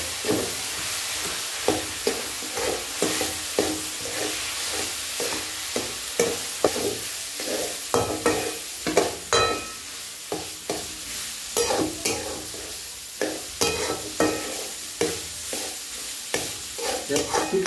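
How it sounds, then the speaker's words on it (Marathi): Stove-roasted potatoes tossed into a pan and stirred, a rhythmic series of scraping spoon strokes over a light sizzle, repeating steadily throughout. "आता आपण जे बटाटे चुल्यामध्ये भाजून घेते ते बटाटे टाकून घेऊ प्रथम"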